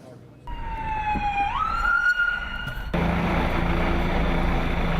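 Wailing sirens from state police cruisers and ambulances rushing toward the scene in Newtown, a loud rising siren tone before giving way to broad road and traffic roar.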